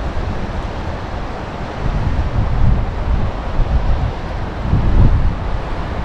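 Wind gusts through a small canyon in Colorado, a loud, constant roar of buffeting noise on the microphone that swells and eases in strength, with no one speaking.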